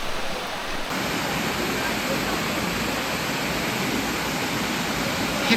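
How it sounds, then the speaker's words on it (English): A small waterfall at Hickson Falls and Chutes, a local swimming hole, pours in a steady, close, broadband rush of falling water that continues without a break. "Nice little waterfall."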